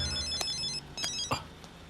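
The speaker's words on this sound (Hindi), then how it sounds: "सर कमिश्नर साहब का फोन है।" A telephone rings close by in short repeated bursts of bright electronic tones, three distinct rings within a couple of seconds, with no talking over them.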